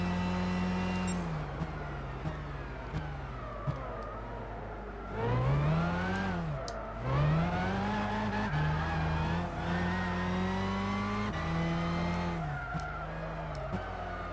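Super GT500 race car engine in Gran Turismo 6, loud and continuous, revving up and down through gear changes with rising and falling pitch sweeps and brief tyre squeal.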